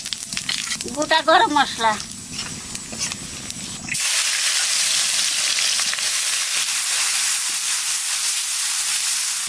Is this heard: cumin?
yes